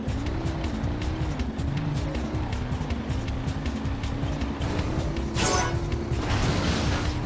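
A car in Jak 3 races with its engine droning steadily and rising in pitch, then a louder rushing boost surges near the end.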